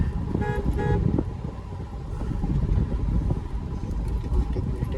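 An auto rickshaw rumbles along a busy road, with a couple of short horn toots early on and steady traffic noise throughout.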